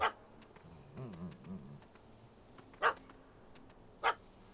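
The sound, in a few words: dog barking and chasing in Witcher 3 Hearts of Stone video game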